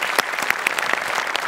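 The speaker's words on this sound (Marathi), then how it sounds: "त्यांच्यासाठी जोरदार टाळ्या" Studio audience applause on a Marathi comedy show, a short burst of dense, lively clapping close by and fairly loud.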